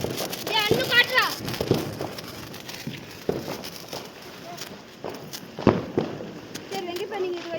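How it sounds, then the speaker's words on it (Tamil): A snake firecracker goes off outdoors among people, giving scattered sharp pops and crackles spread over several seconds, with voices chattering nearby between the bursts. "அது பாம்பு பட்டாசு. பாம்பு மாதிரி வரும் பாரு."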